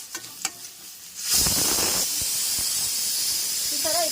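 A pressure cooker on the stove releases steam through its whistle, a loud sustained hiss that starts abruptly after a few faint clicks and holds steady to the end.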